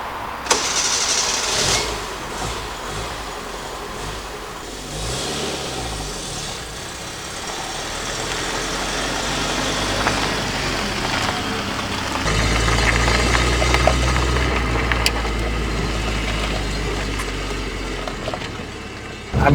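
An old Yugo car's carburettor overhead-valve engine runs steadily with a rough, low rumble that swells louder midway, accompanied by mechanical rattling and clatter, close by.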